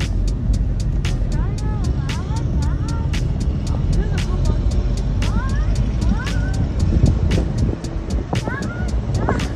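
A scooter converted into an auto-rickshaw drives through Iquitos, Peru, its motor droning continuously up close with wind rush while a person talks over it.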